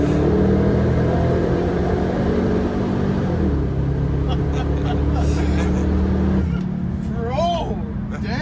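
A car accelerates hard at full throttle, its loud engine droning steadily close by before a gear change near the end brings a rising whine, while people talk inside.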